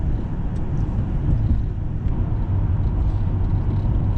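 Inside a Lincoln Town Car cruising quiet country back roads, a steady low engine and road rumble drones on continuously with no other noticeable sounds.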